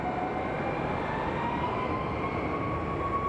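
An American Airlines airliner roars steadily at Phoenix Sky Harbor Airport, a broad, constant jet rumble with a faint whining tone drifting above it.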